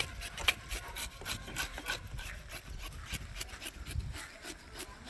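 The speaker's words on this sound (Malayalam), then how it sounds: "നല്ല സ്ലൈസ് പീസായിട്ട് തന്നെ കട്ട് ചെയ്ത് റെഡിയാക്കി തരുന്നു" A vendor at a Tamil Nadu fish market cleans fresh fish and cuts it into slices, making quiet, rapid scraping and rasping strokes in uneven bursts with no voices.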